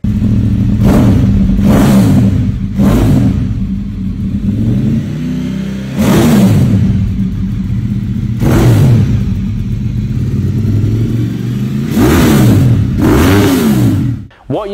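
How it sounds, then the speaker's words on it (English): Ducati 848 Evo motorcycle with twin Termignoni slash-cut exhausts, revved repeatedly nearby in loud rising blips over a steady idle rumble, several throttle bursts spaced across the stretch with no talking. "What you just heard there was the stunning slash cut twin Termagnolis."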